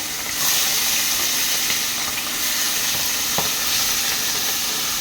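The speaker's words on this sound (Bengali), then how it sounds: "এরকম করে বাদ বাকি মাছগুলো আমি ভেজে নেবো, মাথাগুলো একবারে দিয়ে দিচ্ছি" Hilsa fish heads fry in hot oil in a home kitchen, giving a loud, steady sizzle and hiss that holds constant throughout with faint crackles and no voices.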